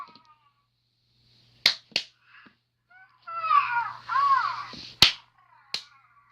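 A few sharp hand claps, once then twice, spaced apart in a quiet room, with a Fingerlings Baby Elephant toy responding between them with chirpy, warbling electronic sounds.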